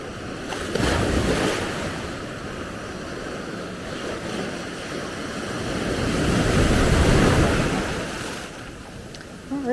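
Ocean waves wash onto a warm Mexican beach where surfers are out, a broad rushing surge that swells and fades over several seconds, close and fairly loud with wind buffeting the microphone.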